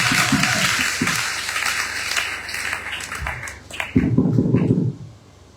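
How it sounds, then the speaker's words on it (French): Congregation applauding during a French-language sermon, a dense burst of clapping that fades over a few seconds, followed by a brief loud stretch near the end. "Applaudissez très fort les gars."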